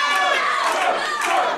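A wrestling crowd roars and cheers loudly and steadily throughout, with excited shouts rising out of the dense noise near the end.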